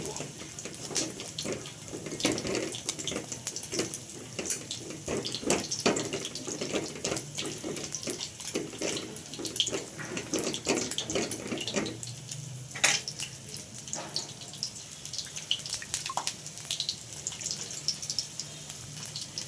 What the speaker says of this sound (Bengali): পানি দিয়ে দিলাম পানি দিয়ে ভালো করে নেড়ে নেব